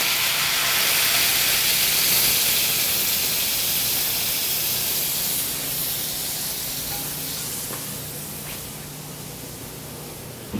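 Sauce poured over meat, oil and juices on a hot stone plate sizzles with a loud, steady steam-like hiss that fades only slightly as it settles, with no talk.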